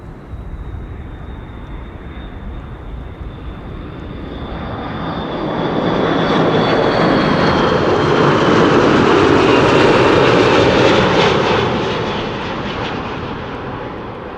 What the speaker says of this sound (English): The A380 is getting more close by the minute